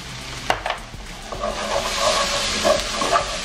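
A spoon stirs tuna chipotle filling in a pan over very low heat, with a few scraping clinks followed by a soft, steady sizzle close by.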